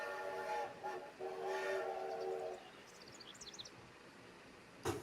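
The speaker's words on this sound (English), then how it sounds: "We'll hear Rainbow Sun's whistle" A steam engine whistle from the Rainbow Sun engine sounds in two moderately loud blasts, a short toot then a longer sustained tone, followed by faint chirping and a brief sharp knock near the end.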